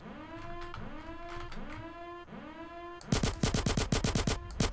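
Rapid automatic gunfire cracks through a wall in GTA San Andreas, a burst of close, loud shots following repeated swooping engine or jet-like tones.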